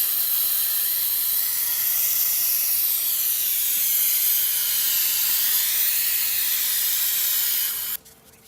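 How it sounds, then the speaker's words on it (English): Brake cleaner sprays out of an aerosol can onto a Ford PTU in a steady, loud hiss lasting about eight seconds before it cuts off abruptly. "I like to soak it with brake clean if it's cool, and that'll clean it off the best way possible."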